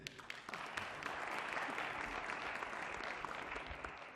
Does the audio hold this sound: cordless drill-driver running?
no